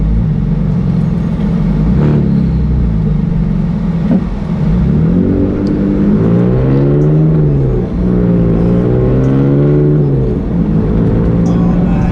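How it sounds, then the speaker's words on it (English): A car driving with its windows down, a loud steady engine drone and road rumble with wind buffeting, the engine note rising and falling through gear changes, continuous and close throughout. "I have no idea how this audio is going to sound because I have my windows down."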